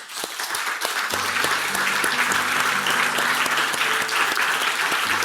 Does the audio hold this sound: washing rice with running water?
no